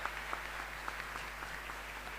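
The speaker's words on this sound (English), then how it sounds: "A round of applause for the professor." Applause for a professor at an International Day of the Boy Child event, a faint, distant patter of clapping from the audience over a low steady hum, with a few individual claps popping out.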